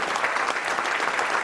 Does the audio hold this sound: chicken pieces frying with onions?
no